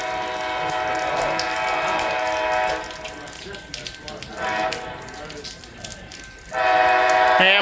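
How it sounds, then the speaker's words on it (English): Amtrak's Auto Train passes through the station at Palatka, Florida, sounding its loud multi-tone horn in long blasts, then a rumble of passing cars, and another horn blast at the end. "Amtrak's auto train coming through Palatka."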